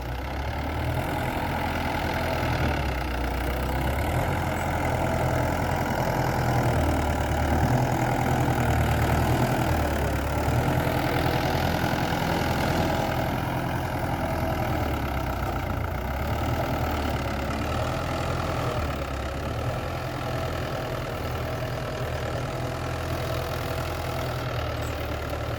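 Mahindra 595 DI turbo tractor pulling a 5-point cultivator in farmland, its diesel engine running steady and loud with a low knocking throb throughout, no voices.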